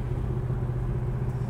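A 1969 Chevrolet Nova idles steadily, its exhaust giving a deep, continuous rumble close up with a slight lope, alone and with no other sounds over it.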